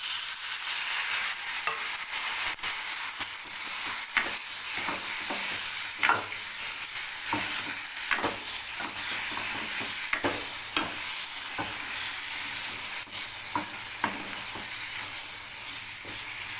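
Tomatoes sautéing in a pan with turmeric and chili powder while rasam is being made, giving a steady close sizzle broken by repeated scrapes and clicks of stirring, with no voices.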